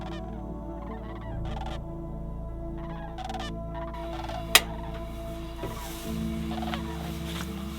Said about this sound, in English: These calls remind me of geese, but they have a deeper, stranger sound to them.